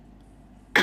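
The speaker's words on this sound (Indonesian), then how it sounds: "Nah, itu batuk cantik." A single sharp cough bursts out close and loud near the end, after a quiet stretch of low room hum, during an Indonesian live showroom stream.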